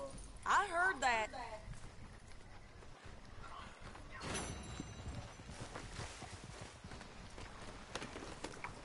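Horse hooves clip-clop in the video game Red Dead Redemption 2, a quick run of hoofbeats at the start followed by quieter ambience while someone talks.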